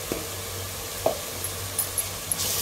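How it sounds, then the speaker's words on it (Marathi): Red chutney frying in hot oil for a mixed vegetable curry, a steady soft sizzle with a few light clinks and stirring taps, no voices. "ही पण जरा तेलात फ्राय करायची, म्हणजे भाजीला चांगला तवंग येतो लाल"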